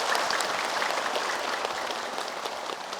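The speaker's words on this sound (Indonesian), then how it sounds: "Boleh deh tepuk tangan semuanya nih" A studio audience claps at an Indonesian religious talk show, dense even applause filling the room from start to finish, loud and sustained with no break.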